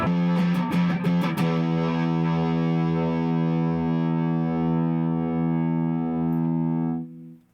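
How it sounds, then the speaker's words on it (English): An electric guitar, a Sire T3 with mahogany body, played through a heavily distorted Rat pedal: a quick strummed flurry, then a thick sustained chord ringing loudly for several seconds before cutting off. "you can try with a rat distortion"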